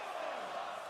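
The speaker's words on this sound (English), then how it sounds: "The crowd are loving it," A virtual arena crowd in WWE 2K23 roars in a brief, steady wash of cheering during a wrestling match in universe mode, fairly faint.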